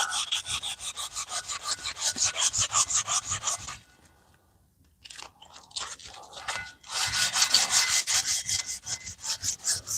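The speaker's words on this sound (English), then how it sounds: "We did put some scratches in here. Let's try to polish them out a little." Hand polishing out scratches on a motorcycle part, a steady rapid back-and-forth rubbing scrape, close and loud, pausing briefly in the middle before resuming.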